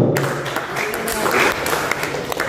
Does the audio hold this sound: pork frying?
no